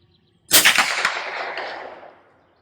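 A single sharp rifle shot from a .22 LR Federal high-velocity hollow-point round cracks loudly and then trails off in a long, fading echo lasting about two seconds.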